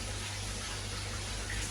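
Water sloshing and churning in a koi pond filter as loose ceramic filter media is stirred around by hand, a steady broadband splashing wash that continues without a break and with no talking.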